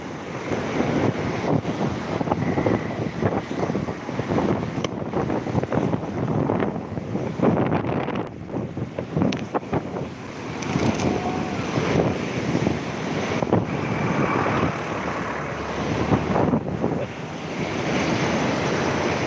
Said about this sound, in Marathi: बघा मुळा मोठ्या नदीचं पाणी आवाज येते का तुम्हाला